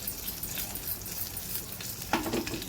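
Green chillies, mustard seeds and cumin sizzle in hot oil in a pan, with a continuous crackling fry and a brief louder scrape or stir near the end.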